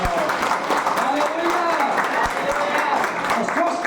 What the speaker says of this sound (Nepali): परमेश्वरलाई हामी ताली बजाएर हामी धन्यवाद गरौँ